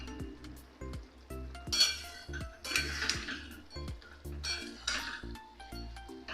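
Fish head curry with potatoes stirred in a pan, a spoon clinking and scraping against the metal in a steady rhythm over soft sizzling, close and clear.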